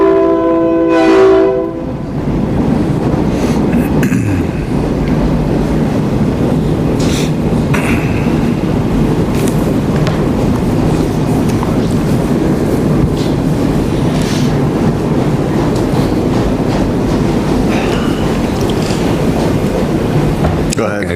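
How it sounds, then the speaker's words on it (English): A train rolls past nearby with a horn blast at the start, followed by a loud, steady rumble of rail cars that continues throughout, heard outdoors at a city council meeting in Lebanon, Oregon. "Hold on 1 second while the train goes by."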